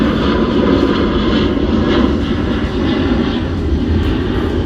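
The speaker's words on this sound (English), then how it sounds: "So I'm gonna let this plane pass." A fixed-wing airplane passes overhead, its jet engine giving a loud, steady, broadband roar that fills the whole stretch without a break and with no talking.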